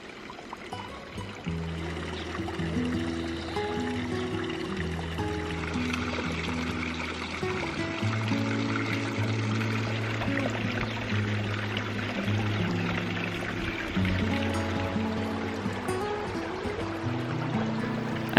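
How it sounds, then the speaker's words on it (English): Water runs steadily along open street canals in a Spanish town, a continuous trickling, pouring flow that stays even and close throughout, with a low tonal hum layered beneath it. "there's water just flowing along canals on the"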